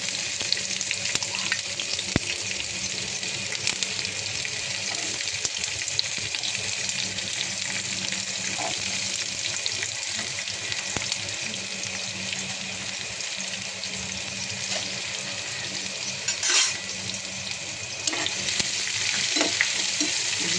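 Onions frying in a pan give off a steady, loud sizzle that runs without a break, with faint scrapes of stirring and brief watery splashes near the end.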